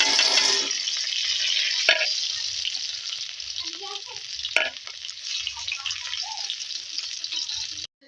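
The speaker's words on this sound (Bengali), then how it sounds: "যে রসুনটা ভাজা ভাজা হয়ে গেল" Garlic, black cumin and a bay leaf fry in oil in a pan, a steady close sizzle punctuated by a couple of sharp spoon knocks and soft stirring scrapes.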